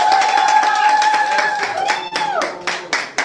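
An audience claps in a brief spatter of separate hand claps, growing sharper and more scattered toward the end, while a voice talks under it.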